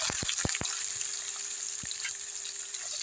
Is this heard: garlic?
yes